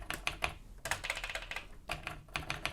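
Rapid clicking keystrokes on a computer keyboard, typed in quick bursts with short pauses between, close and clear with no voices.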